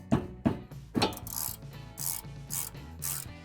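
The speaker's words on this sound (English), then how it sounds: "I'm gonna take a 14 mil, we're gonna stick it on here. We're gonna see if we can bust it loose." Ratchet wrench with a 14 mm socket working a bolt loose on a Ford Focus ST, heard as three sharp clicking strikes followed by a steady run of ratcheting clicks and rasping, close and fairly quiet with no talk.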